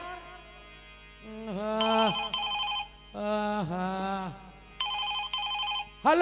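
A telephone ringtone plays at a Chhattisgarhi nacha gammat folk theatre performance, with repeated bursts of a bright, warbling electronic melody separated by short pauses.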